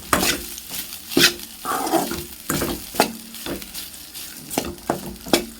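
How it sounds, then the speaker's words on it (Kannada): Leftover rice with tempering is stirred in a hot pan. Repeated scraping strokes of a spoon against the pan sound over a soft sizzle, in an uneven rhythm with no talking. "ಈ ಅನ್ನ ಆರೋಗಿರೋದ್ರಿಂದ ಸ್ವಲ್ಪ ಬಿಸಿ ಚೆನ್ನಾಗಿ ಆಗೋವರೆಗೂ ಮಿಕ್ಸಪ್ ಆಗಿ ನಾವು ಈ ಥರ ತಿಳ್ತಾ ಇರಬೇಕು"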